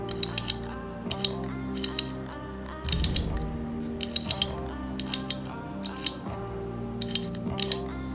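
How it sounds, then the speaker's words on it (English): An anti-reversal latch lever clicks against the bevel gear inside an ASG Scorpion EVO airsoft gearbox, a close, crisp series of ratcheting clicks in irregular bursts with a steady mechanical hum underneath. "You should now hear the lever clicking on the bevel gear."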